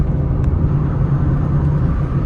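A BMW M2 sweeps past at speed on the road, a loud, steady engine and tyre roar close by with no voices over it.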